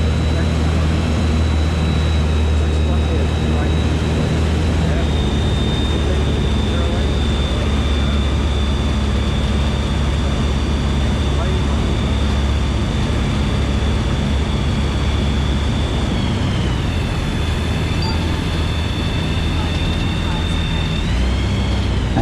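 Light aircraft on a grass runway at Kemble, with a loud, constant engine and propeller drone filling the cabin, pitch steady with a slight shift late on, and a voice talking over it.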